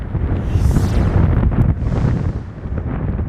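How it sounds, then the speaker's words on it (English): Strong wind from Hurricane Isaias buffets the microphone in South Carolina's Lowcountry, a loud, continuous low rumble, surging and easing in gusts throughout. "Harv, how's that wind looking out there where you are now?"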